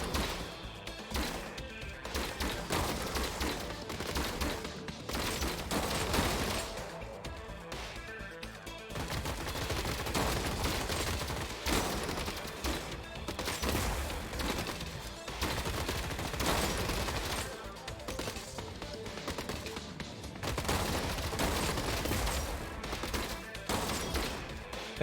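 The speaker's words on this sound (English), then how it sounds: "He sees gunfire coming from both sides" Rapid bursts of gunfire from robot units in the strategy game Gladiabots, loud and continuous volleys crackling back and forth with no pauses.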